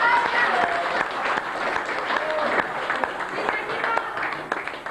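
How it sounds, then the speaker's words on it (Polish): Audience applause at a school self-government day event after prize places are announced, loud dense clapping with voices and cheers mixed in throughout. "Brawa!"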